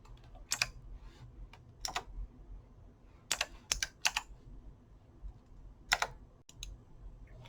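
Keys tapped one at a time while a list of data is entered, soft and close, with about nine separate clicks spaced irregularly across a quiet background.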